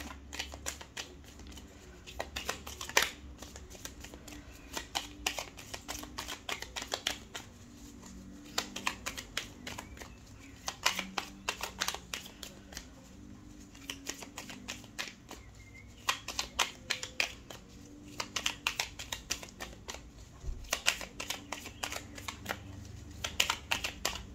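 Oracle cards are shuffled and drawn for a 13-card reading, giving repeated quick, crisp riffling and flicking bursts that are close and fairly soft, with short pauses between them and no talking.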